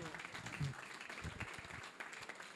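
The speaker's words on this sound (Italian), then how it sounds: "facciamo un altro applauso" An Italian evening audience gives a short burst of applause in a hall, a brief rush of many hands clapping together at moderate loudness with a voice or two mixed faintly in.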